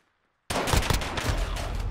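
Gunfire in Call of Duty Modern Warfare starts abruptly after a half second of silence, a loud, dense burst of shots that keeps going with sharp repeated cracks and no talk.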